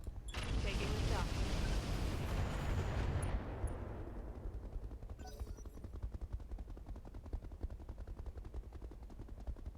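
Heavy gunfire in a video game, with a dense burst of shots and booming blasts at the start that fades into rapid, repeated crackling fire in the background.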